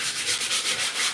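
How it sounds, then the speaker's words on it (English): Steady, rhythmic strokes of 400 grit sandpaper lightly rubbed over primer on a body part, a close, continuous scratchy sanding rasp in even back-and-forth swells with no talking. "I'm using 400 grit sandpaper here. I'm lightly touching it while I'm sanding it."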